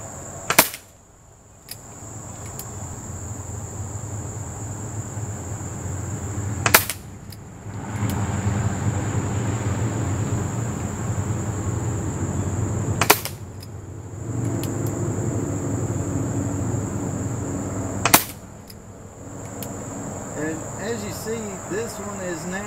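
A Crosman Vigilante .177 CO2 pellet pistol fires four sharp, evenly spaced shots several seconds apart over steady outdoor insect chirping and low background noise.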